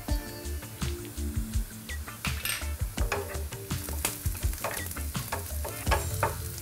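Potato, carrot and beans with cashews and raisins are stir-fried for Bengali poha (chirer pulao). A steady sizzle runs under rhythmic scraping and clinking of a spatula against the pan.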